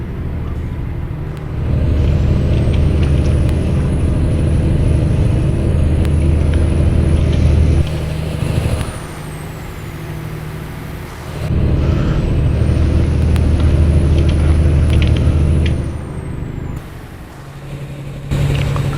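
A Cat C15 625-horsepower truck engine with an 18-speed and retarder in American Truck Simulator rumbles loudly, with two long hissing air-brake releases that cut the engine drone briefly.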